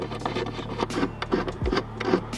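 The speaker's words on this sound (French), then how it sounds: "Ensuite avec une douille de 10 on va dévisser l'écrou ici." A 10 mm socket turns a nut loose during a car LED light installation, giving close, scratchy ratcheting and rubbing sounds in short irregular bursts with one dull knock.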